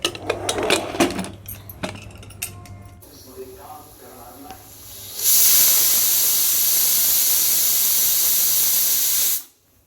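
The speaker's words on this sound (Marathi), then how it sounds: "त्याला आपण झाकण लावून आठ ते नऊ शिट्ट्या करणार आहोत" A pressure cooker on the stove cooking mutton paya soup lets out a loud, sustained steam whistle close by for about four seconds before stopping, preceded by clattering kitchen sounds and a person talking.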